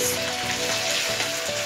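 Chopped chilli and vegetables stir-frying over a high flame in a pan for vegetable chow mein, a dense, continuous close sizzle with crackling spatter throughout, no voices.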